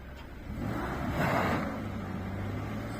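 A car engine revs up under more throttle during a driving lesson, heard from inside the car as a low, moderate rumble that swells briefly and then settles.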